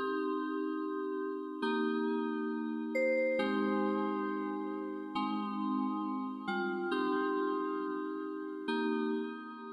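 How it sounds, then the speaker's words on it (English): Long sustained chords from a bubbly old vibes preset in Omnisphere, mellow tones changing every second or two in a steady progression, played alone with no voice. "Then I opened up Omnisphere again and I picked this bubbly old vibes preset,"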